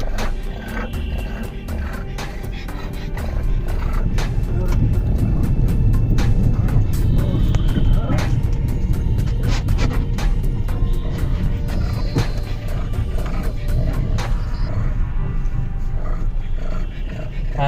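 Hyundai Xcent car accelerating hard from a standing launch, a steady, loud engine roar building and holding close-up for most of the run before easing off near the end.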